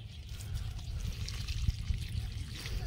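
Water poured onto a sapota plant outdoors, a steady low trickle and splash running through the whole short stretch, moderately close, with no talking.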